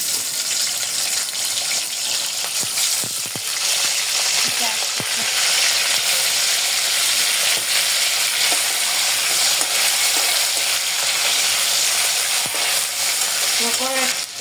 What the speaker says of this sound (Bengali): আমার শুটকিগুলো হচ্ছে ভাজা হয়ে গেছে